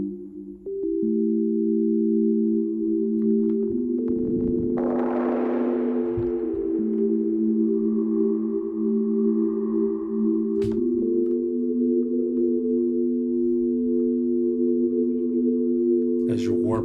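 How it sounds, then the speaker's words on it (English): A sustained synth tone in Ableton Max for Live plays with a reverb effect adding crunch and warble. The layered tones shift pitch in steps over a long, continuous drone, with a swell of grit partway through. "you can actually add some crunch to your tone. So let's play with it a little bit so you can hear what it sounds like."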